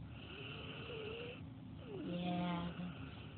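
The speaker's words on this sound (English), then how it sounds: "this is my snoring lab" A big black Labrador sprawled on the floor in front of a door snores, a steady low rasping breath that swells louder near the end of the short stretch.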